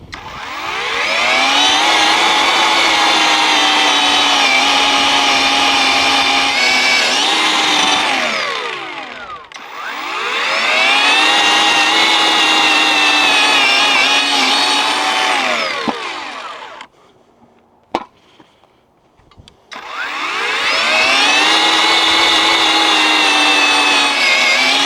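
A battery-powered electric auger whines loudly as it bores into the ground, running in three long sustained bursts with pitch sagging at the end of each, separated by brief pauses near silence.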